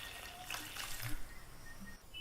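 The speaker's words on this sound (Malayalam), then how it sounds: "ഇനി നമുക്കിതിലേക്ക് 1/2 കപ്പ് വെള്ളം ഒഴിച്ചു കൊടുക്കാം." Half a cup of water poured onto crushed jaggery in a pan for neyyappam, a soft, brief splash and trickle that is quiet and close, with no talk over it.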